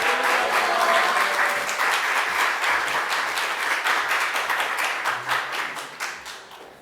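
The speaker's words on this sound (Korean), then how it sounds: "나오실 때 할렐루야 큰 박수를 하겠습니다." A church congregation claps loudly in welcome for a visiting pastor at a Sunday service, steady dense applause that gradually thins and fades toward the end.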